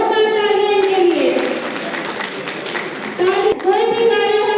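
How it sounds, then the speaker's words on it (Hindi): An audience at a rural women's conclave in RS Pura and Suchetgarh claps in a dense, loud burst of applause that swells, tails off and then picks up again, mixed with a voice. "जोरदार तालियां इनके लिए।"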